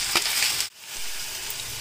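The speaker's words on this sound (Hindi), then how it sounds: "प्याज को हमने पैन में डाल दिया है" Chopped onion meets hot oil in a pan: a bright frying hiss cuts out briefly for a moment, then settles into a steadier, softer sizzle, close up with no voices.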